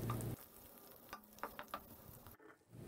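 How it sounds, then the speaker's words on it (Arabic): Chopped hot green chili and curry leaves frying in a pan while being stirred, with soft scraping and stirring clicks over a faint sizzle, fairly quiet and close. "ثم أضع قطع الفلفل الأخضر الحار وأوراق الكاري وأقلب المكونات حتى تطلق رائحة الأعشاب والتوابل"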